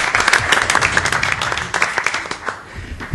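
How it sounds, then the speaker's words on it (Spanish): A live podcast audience at a festival breaks into close, loud applause, uneven bursts of individual claps swelling and dipping, with some crowd murmur underneath. "Un aplauso, eso, aplauso."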